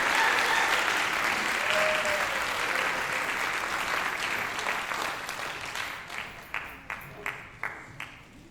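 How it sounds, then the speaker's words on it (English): A crowd applauds loudly, the dense clapping slowly thinning out until only a few scattered individual claps remain at the end. "I would like for you guys to give applause for Emily Miller and Jesse Milnes."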